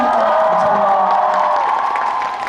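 A big fan-concert crowd cheers and shouts steadily, loud and close, with whoops rising above a dense wall of voices and some clapping mixed in.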